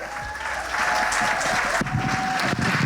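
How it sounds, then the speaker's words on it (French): An audience at a women's leadership academy breaks into loud, sustained applause for a speaker, the clapping swelling after a moment and staying dense and close throughout. "Nelson Chichougui, s'il vous plaît, applaudissez-le."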